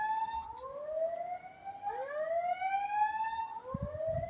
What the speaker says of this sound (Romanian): Uite, un automotor nou.